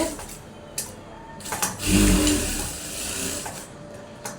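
A sewing machine stitching a blouse seam, a short whirring run of the motor that rises and then fades, with a few light mechanical clicks around it and no talking.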